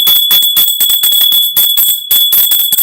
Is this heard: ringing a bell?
yes